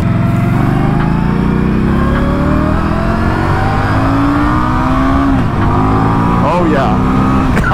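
An Indian Scout motorcycle engine revs loud and close in a continuous roar, its pitch climbing and shifting through accelerations, with faint talk underneath.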